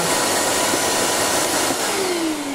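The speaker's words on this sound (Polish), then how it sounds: "odkurzacz chodzi dosyć głośno" A Kanwod Super Wash 2000 W washing vacuum cleaner runs at full power, a loud continuous whooshing roar with a motor whine that slowly drops in pitch near the end.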